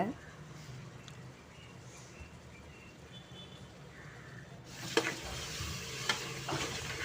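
Yogurt stirred into a fried tomato, onion and ginger-garlic masala for paneer biryani; soft sizzling and stirring at first, then louder scraping and frying in the second half, with a faint voice in the background.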